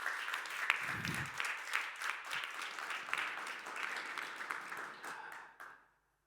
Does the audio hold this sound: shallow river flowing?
no